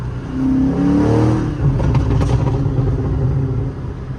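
A car accelerates with a loud, close engine roar and a deep exhaust burble that swells, then settles into a steady rumble throughout.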